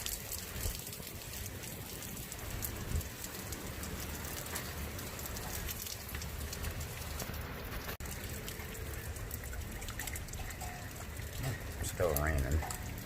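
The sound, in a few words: rain falling during a thunderstorm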